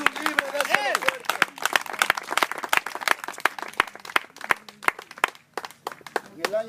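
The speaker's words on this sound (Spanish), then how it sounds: "Un aplauso fuerte al Señor." A church camp congregation applauds loudly in praise, with sharp, close claps that are quick and irregular. Voices rise over the clapping throughout, and a brief lull near the end gives way to more clapping.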